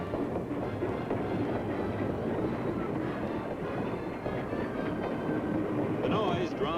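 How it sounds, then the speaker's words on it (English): A train pulling out of a station rumbles and clatters steadily, wheels rattling on the tracks, with a faint squeal near the end as it moves along. "the homeward bound special train chugs out of the station"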